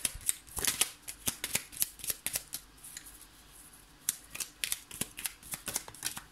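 Tarot cards shuffled and drawn for a reading, with a rapid flurry of crisp riffling clicks and snaps close up, a short pause in the middle, then more brisk card flicks, quiet and without speech.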